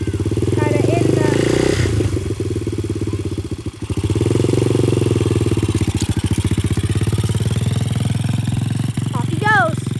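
A 125cc dirt bike engine revs and chugs up close with a rough, rattling rhythm and a brief dip in throttle midway, while voices talk over it.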